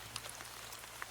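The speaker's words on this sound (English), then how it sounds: "Outside, the rain has settled into a steady, soothing curtain" Steady rain falling outside as an audiobook sound effect, a soft continuous hiss with a few faint droplet ticks scattered through it.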